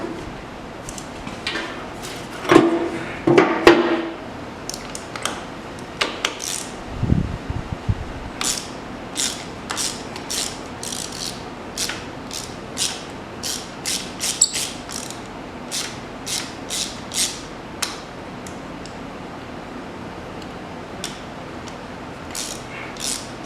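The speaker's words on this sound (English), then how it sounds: "Sounds like it's got good compression when you crank it." A Honda CB750 motorcycle that sat unused for 35 years is cranked over by its starter with the spark plug removed. A series of sharp mechanical clicks and pulses repeats unevenly at moderate volume, with no voices.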